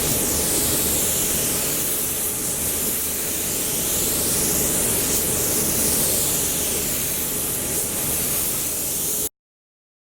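A paint spray gun running at about 1.5 bar lays down clear coat in one continuous, close hiss that holds steady for around nine seconds before cutting off abruptly.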